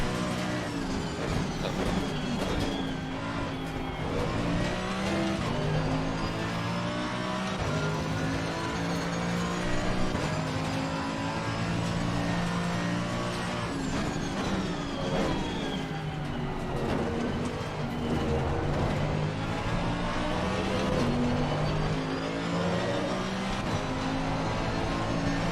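Car engines from a racing video game, a continuous layered drone of several engines rising and falling in pitch as they rev, shift and accelerate, steady and moderately loud over the whole stretch.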